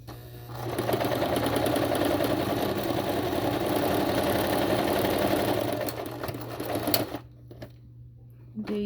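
A sewing machine stitches a cloth face mask in a steady close-up run for about six seconds, then stops, leaving a low hum and faint handling sounds.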